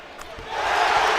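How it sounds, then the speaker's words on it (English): A college basketball crowd at a Southern vs Arkansas game rises to its feet, cheering in a broad roar that swells louder over a brief moment. "And the crowd on its feet."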